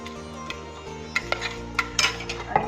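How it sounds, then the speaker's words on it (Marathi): A spoon stirs mustard and cumin seeds in hot oil in a pan, with light clinks and scrapes against the metal and a few sharper taps, close and fairly loud, no talk. "जिरे पण छान फुलले की त्यांना हलवून घ्यायचं"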